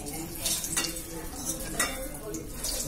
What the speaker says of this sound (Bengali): বেগুনটা ভাজা হয়ে গেছে,